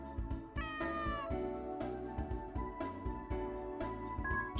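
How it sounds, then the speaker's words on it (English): A cat meows in the farming video game Harvest Moon: Tree of Tranquility. The meows are short and clear, with steady game music playing underneath. "No, that's a cat."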